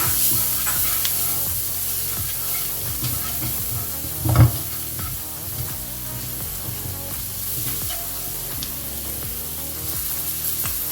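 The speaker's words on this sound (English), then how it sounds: "I am adding the green peas so that it can take the flavor." Green peas frying in a pan for paneer samosa filling, a steady close hiss of sizzling oil throughout, with one brief louder stirring scrape midway and no talking.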